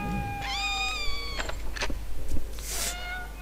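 Cat meows from a video game, several drawn-out tonal cries and short mews against a low steady background hum.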